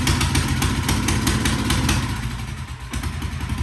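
A 1967 Sears Super 12 tractor engine running at raised throttle, a loud, close, rapid, even chugging that eases slightly toward the end.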